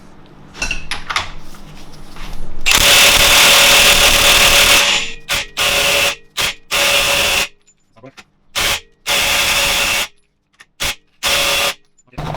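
A Milwaukee impact gun with a socket fitted, used during BMW N62 timing chain overhaul work, fires one long loud rattling burst of about two seconds, then a series of short sharp bursts separated by silence, close to the listener.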